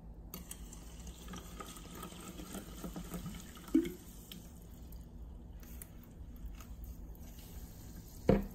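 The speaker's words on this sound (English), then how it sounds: "Let's pour some water in." Borjomi sparkling mineral water poured into a small test cup makes a quiet, steady trickle and fizz, broken by two brief knocks of the cup, with no voices.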